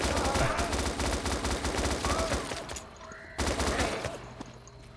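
Automatic gunfire in DayZ, a fast stream of loud close shots that breaks off briefly before another burst resumes.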